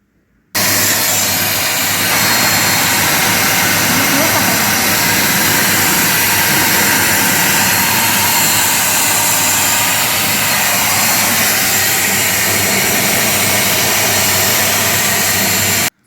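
An Agaro hand vacuum cleaner runs continuously at close range as a loud, steady whirring roar with a constant motor hum. It starts abruptly and cuts off sharply after about fifteen seconds, with no talking.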